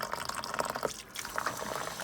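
Excess water drips and trickles off a container of soaked grain being sprouted for chickens, a close, steady splatter of small drops with a brief pause partway through.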